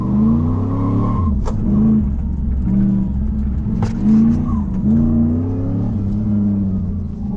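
Third-generation Pontiac Firebird racing an autocross course at Black River Motorsports Park, engine revving hard up and down through gear changes with rising and falling harmonic pitch and a brief tire chirp, close and loud throughout.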